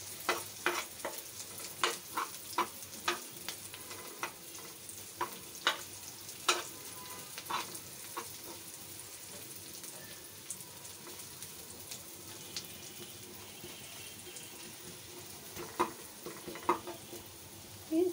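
Peanuts frying in a pan with onions, a continuous soft sizzle broken by scattered clicks and scrapes of stirring, close and fairly quiet, with no talking.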